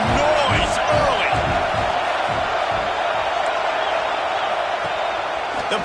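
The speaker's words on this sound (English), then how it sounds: "This crowd bringing the energy and noise early" Dense roar of a college football stadium crowd at Florida State vs Ole Miss, steady loud cheering and noise with a commentator speaking over it.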